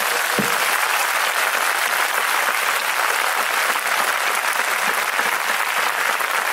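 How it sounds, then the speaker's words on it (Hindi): A church congregation at a spiritual revival gathering claps hands together in a dense, loud, continuous wash of applause that holds evenly for several seconds with no talk over it. "एक बार ऊपर ताली बजाएंगे यीशु जी के लिए।"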